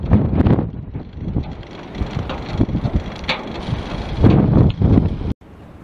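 Gusty wind buffets the microphone outdoors beside a vertical-axis wind turbine made from an oil drum, a loud, rough rumble that swells and fades before cutting off abruptly.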